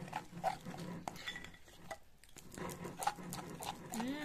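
Yule log mousse mixed by hand in a bowl, soft repeated scraping and clinks of a utensil against the sides, faint and close, with a brief pause midway.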